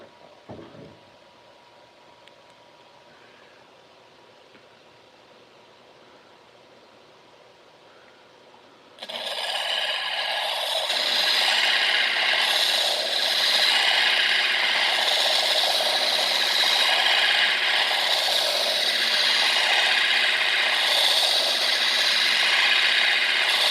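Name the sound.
sanding gemstone cabochon on an 80 grit disc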